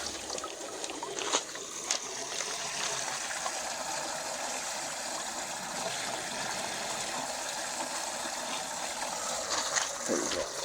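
Water draining from a 2-inch pipe into a bin beside a pool being converted to a koi pond, a steady close trickling splash that runs unbroken, with a few brief knocks.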